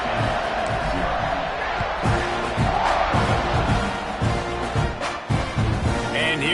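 Home crowd at a Texas A&M versus Baylor college football game roars and cheers steadily throughout, a loud, dense wash of many voices with occasional sharper shouts and thumps rising out of the din.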